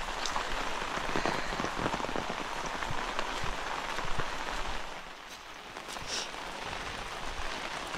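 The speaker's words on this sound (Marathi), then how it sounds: "तर एवढा पाऊस लागतोय गावी." Heavy monsoon rain pours steadily onto surfaces in a village at the start of the rainy season, a dense close hiss that eases slightly partway through.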